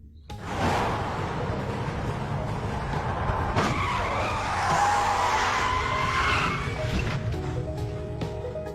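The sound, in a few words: car skidding to stop another car, film scene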